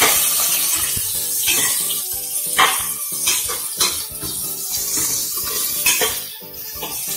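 Sliced onions frying in a pan for vegetable biryani, a steady close sizzle broken by scraping stir strokes and occasional clinks of a utensil against the pan.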